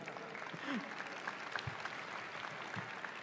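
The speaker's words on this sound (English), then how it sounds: "yes, absolutely applaud her." Applause from an audience at a 2022 commencement ceremony greeting the class valedictorian, a steady, moderately loud patter of clapping that holds throughout, with brief low thumps and faint murmurs under it.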